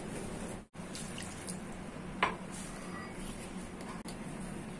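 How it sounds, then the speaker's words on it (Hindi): Water is poured into a spiced potato mixture for Gujarati dabeli, a steady, close trickle running continuously for about five seconds with a brief break near the start. "स्मूथ टेक्सचर चाहिए तो हम ऐड करेंगे थोड़ा सा पानी"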